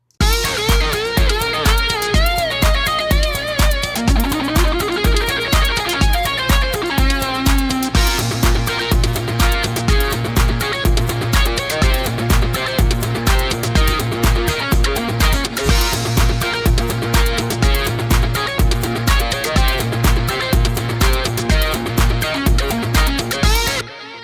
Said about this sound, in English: how to make a realistic lead guitar patch using a synth and a guitar amp